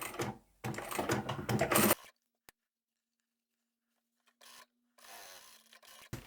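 A sewing machine stitches straight seams along the sides of a small fabric coin pouch, with a loud close burst at first, then near silence and a fainter short run near the end.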